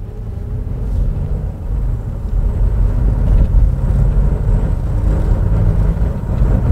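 A repaired 2016 Honda Pilot that had run rough with a high idle is driven on a test drive. Its engine and road noise form a steady, loud low rumble that holds even throughout, with no talking.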